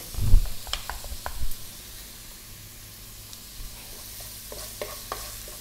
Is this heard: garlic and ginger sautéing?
yes